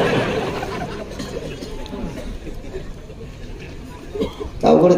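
A large crowd at a gathering chatters in a dense, continuous babble of many overlapping voices, fairly close and loud, with a louder burst of nearby voices at the very end.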